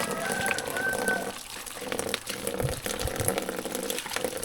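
Running water from an open tap splashes steadily as cassava roots are washed, a continuous broadband wash that dips and surges slightly while the roots are moved through the flow.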